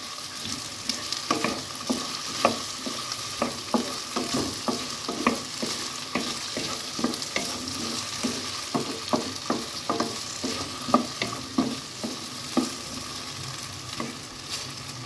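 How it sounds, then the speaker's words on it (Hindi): Potatoes fry in a pan with a steady sizzle while a utensil stirs and scrapes them in repeated, regular strokes, close and fairly loud, with no talking. "ये देखें पोटैटोज़ को थोड़ा सा फ्राई करेंगे हम"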